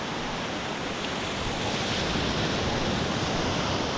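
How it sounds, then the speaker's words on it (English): Steady broadband wash of ocean surf rolling onto the sand at Old Orchard Beach, Maine, a continuous roar close by with some wind buffeting the microphone and no voices. "And you got the ocean right here"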